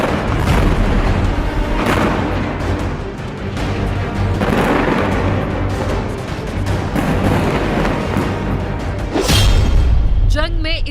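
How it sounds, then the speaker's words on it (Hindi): Israeli airstrikes on Gaza produce a dense, continuous roar of heavy booms and rumbling blasts, loud and sustained throughout, with a sharper burst near the end. "गाजा पर इजराइल के हवाई हमले।"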